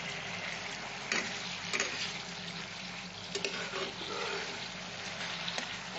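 Fruit pickle with sugar and vinegar simmering in oil, a dense steady bubbling sizzle close up with a few soft taps of a spoon against the pot, no voices.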